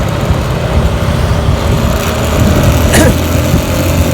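A Honda Wave underbone motorcycle with an open exhaust pipe revs loudly and close by, its engine droning steadily and rising slightly toward the end.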